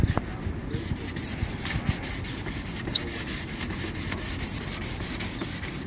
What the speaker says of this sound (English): So right now we're having a good sand here